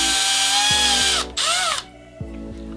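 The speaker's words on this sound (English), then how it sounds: "we're just going to drill a hole directly through the side of the toy" A power drill whirs loudly and close up, boring through the plastic side of a toy disc launcher, its motor pitch dipping as the bit bites in, with a brief pause before a slower final spin.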